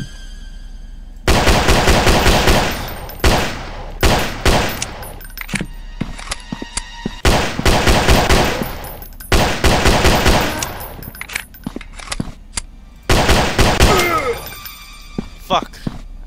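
Zombie shooter video game gunfire: loud bursts of rapid automatic shots separated by short gaps, several volleys in a row with sharp clicks and clatter between them.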